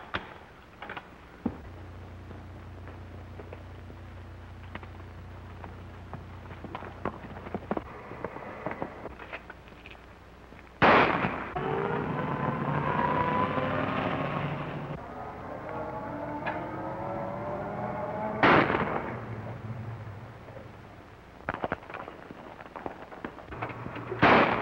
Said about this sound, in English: That's sure nice shooting.